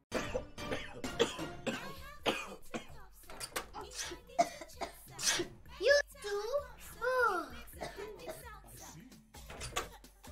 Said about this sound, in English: Daddy's coughing